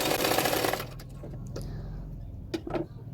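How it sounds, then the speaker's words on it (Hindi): A sewing machine runs in a short burst while stitching along the edge of a blouse cup, then stops, leaving quiet handling clicks and a couple of faint knocks. "किनारे किनारे पे एक सिलाई डाल दूंगी"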